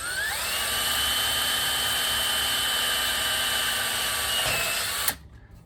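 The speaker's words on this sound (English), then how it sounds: "That worked, with just the drill bit." A power drill whines steadily as its bit bores into a mannequin head, a loud sustained high-pitched tone that holds for about five seconds before cutting off abruptly into quiet room noise.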